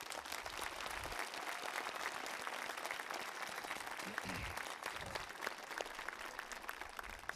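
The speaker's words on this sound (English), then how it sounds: "I'd like to have one last round of applause for Mrs. Cohen" Faint, steady applause from a crowd at an elementary school commencement, offered in memoriam, with continuous distant clapping and a few low thumps.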